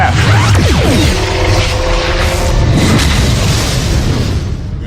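Klingon starship forward disruptors firing in the Star Trek Klingon Academy game, loud booming blasts and whooshing sweeps merging into a sustained explosive rumble.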